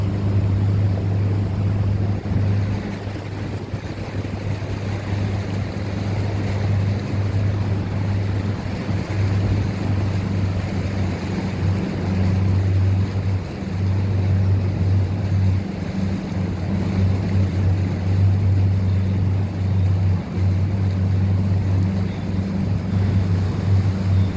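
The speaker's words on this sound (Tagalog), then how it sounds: "Ang barko na lang to." A boat at sea off the Philippines gives a steady low engine drone over constant wind buffeting and rushing water, loud and continuous throughout.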